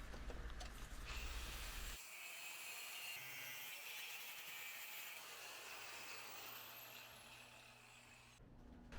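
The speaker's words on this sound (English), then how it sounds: "I'm just going to cut out these squares here with the angle grinder." Angle grinder cutting squares out of steel for Tacoma rock sliders, played back sped up: a steady, loud, continuous grinding whine with a constant high hiss throughout, no talk.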